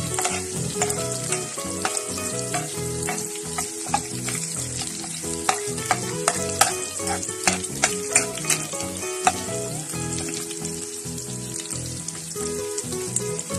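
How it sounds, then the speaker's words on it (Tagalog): Garlic sizzles and fries steadily in a hot pan for a Filipino mushroom sauté, with continuous crackling and occasional stirring scrapes, loud and close, no talk. "So gisahin lang muna natin yung ano, bawang."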